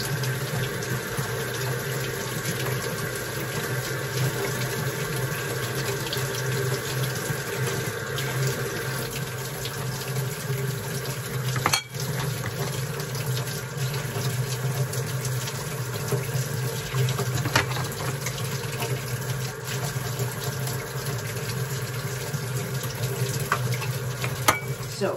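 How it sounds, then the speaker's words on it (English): Water from a sink tap runs steadily as clams are scrubbed with a scrub brush under cold water, a constant close hiss and splash with faint brushing underneath and occasional speech. "I scrub them with the scrub brush in the sink with hot water"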